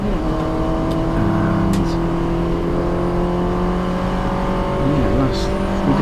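A Mini Challenge Cooper S race car at Brands Hatch in the wet holds a loud, steady engine drone from on board while downshifting into third gear, the pitch shifting slightly.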